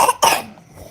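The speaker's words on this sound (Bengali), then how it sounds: "কাশি হয়েছে?" A child coughs twice in quick succession, close and sharp, in a quiet indoor room.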